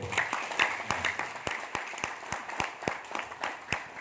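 Audience applause at an Indonesian seminar or talk, a few scattered hand claps with sharp irregular beats at moderate distance, thin rather than a full crowd.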